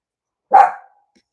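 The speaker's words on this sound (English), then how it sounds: "I have one dog, and I have had people talk about trying to keep her quiet" A single loud, close dog bark rings out once in an otherwise quiet indoor room, then fades quickly into silence.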